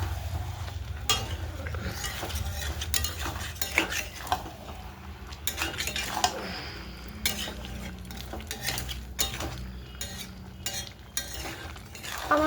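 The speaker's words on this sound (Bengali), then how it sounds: "এখন একটু কষাবো।" Chicken kosha being stir-fried in a pan on a large gas burner, a continuous sizzle under repeated scraping and clinking of a spatula against the pan, close and busy, with no talking.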